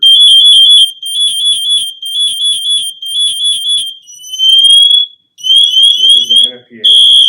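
Full alarm pattern from an MSA G1 SCBA firefighter air pack, the NFPA-mandated signal: loud, shrill repeating electronic chirps in rapid bursts, followed by rising sweeping tones, with a voice speaking briefly near the end.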